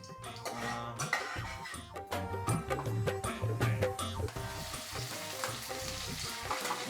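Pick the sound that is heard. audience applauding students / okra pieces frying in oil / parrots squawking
okra pieces frying in oil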